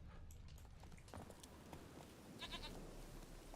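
Goat bleating in the video game The Witcher 3, a few short faint bleats amid quiet in-game ambience and footsteps.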